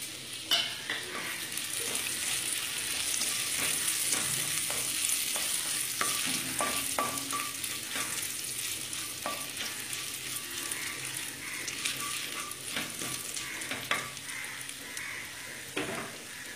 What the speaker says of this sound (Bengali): এইবার একে একে জিরে, তেজপাতা সব দিয়ে দিলাম।